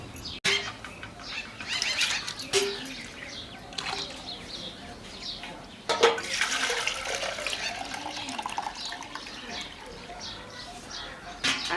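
Water splashes and gurgles as it is poured from a jug into a container while preparing traditional wheat kurdai in a home kitchen, with several pours and rustling movement in between.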